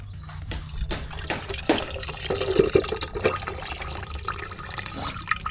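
Water runs and splashes out of a boat engine where gasoline should be after the boat capsized, an irregular gurgling pour with drips and splashes, close by and moderately loud.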